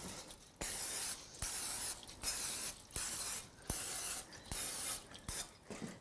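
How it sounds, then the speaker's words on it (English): Repeated short hissing bursts of cooking spray sprayed into a muffin pan, about seven in a row with brief pauses between, close and clear. "You are gonna spray it with cooking spray."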